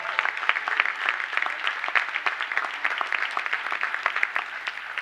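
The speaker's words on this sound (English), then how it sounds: "Let's give them a big round of applause again" An audience at a high school rededication ceremony applauds cheerleaders and a choir, with steady clapping of moderate volume that carries on without a break.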